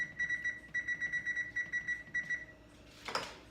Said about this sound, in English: we're going to set the timer for us at 23 minutes